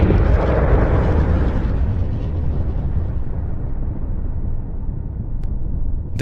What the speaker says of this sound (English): Around 10:30 p.m., the finest ship in the French fleet exploded.